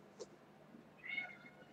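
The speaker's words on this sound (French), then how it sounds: "C'est le chat qui miaule pour rien." A house cat gives two short meows, a faint brief one followed by a longer, slightly louder one, close by in a quiet room.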